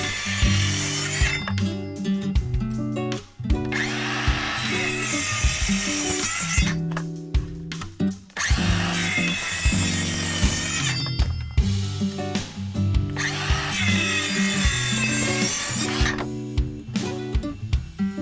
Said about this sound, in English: I ended up grabbing some wooden batten and sawed it into 4 squares.